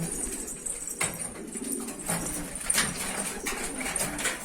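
Young homing pigeons cooing in a loft on a hot day, soft repeated throaty coos from several birds nearby over a steady background hiss, with no talk.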